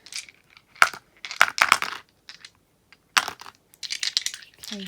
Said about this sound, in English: And then I'm going to roll this dice to see how many of them we use.